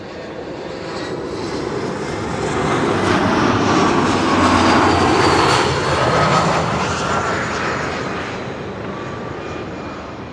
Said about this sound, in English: Then let us not also forget the arrival of the next Embraer 175.